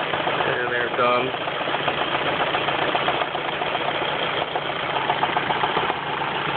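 A Ford Focus engine idles with a steady, close, loud running drone and a persistent ticking knock from the top end, with some faint higher tonal bits near the start.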